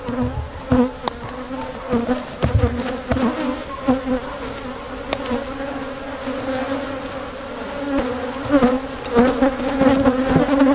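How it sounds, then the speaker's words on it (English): Angry honeybees swarm during hive work, a dense, continuous loud buzz of many wings that rises and falls slightly throughout with no voices. "These bees are not happy bees."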